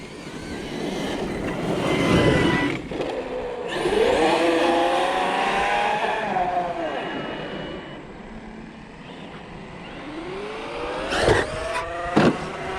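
An Arrma Outcast 8S RC car with a rebuilt rear end races at full power, its electric motor whining and rising and falling in pitch as it accelerates, passes, and fades, with sharp knocks near the end.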